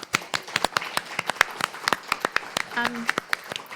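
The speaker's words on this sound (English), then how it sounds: "let's give them a round of applause" A small audience applauds panelists at a survey release event: sparse, uneven individual claps from a handful of people, close by, with a brief voice heard partway through.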